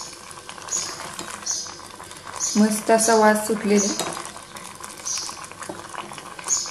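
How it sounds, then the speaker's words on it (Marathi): A pot of black gram (kala vatana) rassa curry simmers at a boil, giving soft bubbling and patter with light clinks of utensils, while someone talks over it through the middle. "तर आता आपल्या रस्सा भाजीला उकळी यायला लागलेली आहे"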